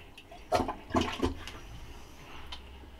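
A toilet flushes in a few short, gurgling water bursts close by, followed by a faint settling trickle and refill hiss, fairly quiet overall.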